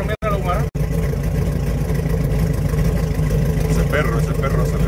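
A 4x4 on a muddy off-road track in Panama revs and accelerates with a strained mid-range engine drone that holds steady. The engine is fairly close, and people talk over it.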